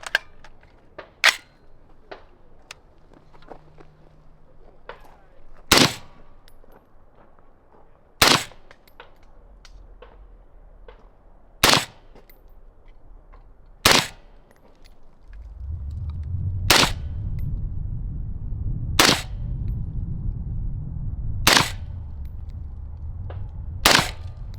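A SOLGW rifle fires a ten-round string of 5.56 77-grain ammunition: sharp, loud cracks at steady intervals of a few seconds, with a low rumble of wind or handling noise building beneath the later shots.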